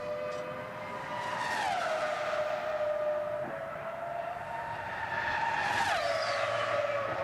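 A BAR 006 Formula 1 car screaming past on track, high-pitched engine whine with gear changes and a rising, falling pitch, loud over steady crowd and circuit ambience.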